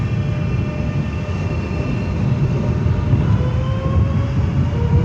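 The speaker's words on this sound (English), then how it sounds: "there's an Electrostar charging into London Charing Cross." An Electrostar electric train arrives at London Charing Cross station, its loud, steady rumble holding throughout with faint tonal whines running on top.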